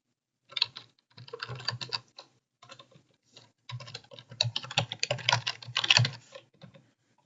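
Login details tapped out on a computer keyboard come through as close, crisp keystrokes in irregular bursts with short pauses, alone against a silent background.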